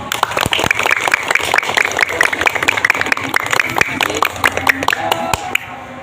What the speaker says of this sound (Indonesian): Yuk kasih tepuk tangan.